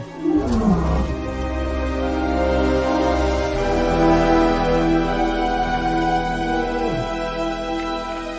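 A male lion roars in the wild, a deep drawn-out call of several rumbling grunts swelling and fading close by, heard alone with no talk.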